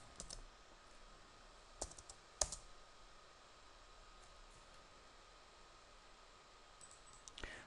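A few sparse clicks from a computer keyboard, struck as a web address is typed, sound close but quiet over a soft background hiss, with long gaps between keystrokes.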